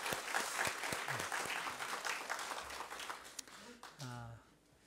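A church congregation claps in thanks to the choir during a Sunday service, moderately loud applause that gradually thins out, with a voice speaking over it near the end.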